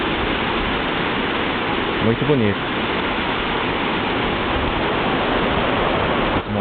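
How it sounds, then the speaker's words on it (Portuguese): A small waterfall in Keminomori Park, Japan, roars in a steady broadband rush through the whole stretch, and a person speaks briefly over the water. "Aqui é uma primeira cachoeira. Uma pequena queda d'água, né?"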